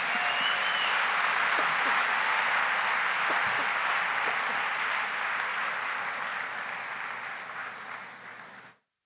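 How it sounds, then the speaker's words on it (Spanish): Congregation applause in a church service, a sustained wash of clapping that holds steady, then gradually thins and fades out toward the end. "Dele un aplauso al Señor Jesús"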